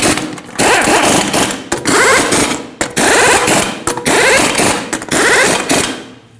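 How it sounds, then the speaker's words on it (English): Power tool or impact gun running up lug nuts to 98 foot-pounds on a Nissan Frontier wheel, loud and close, in several repeated bursts of mechanical whirring and ratcheting separated by short pauses. "in a cross pattern, we're going to torque them to 98 foot-pounds"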